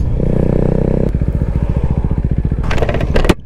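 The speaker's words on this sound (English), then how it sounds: "Doing a pull on the Svartpilen." Husqvarna Svartpilen motorcycle engine droning steadily, then revving through a rapid pulsing beat as it accelerates hard, loud and close, with a sharper rising burst near the end.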